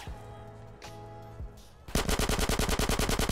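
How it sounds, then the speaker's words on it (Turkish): Rapid automatic gunfire erupts in GTA San Andreas after a brief stretch of music and game ambience: a loud, close, steady stream of evenly spaced shots. "Bayağı bir ateş açıyorlar şu anda."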